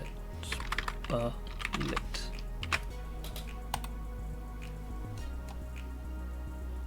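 Keys clatter on a computer keyboard nearby in quick bursts of clicks, with a steady low hum underneath. Someone speaks briefly over the typing.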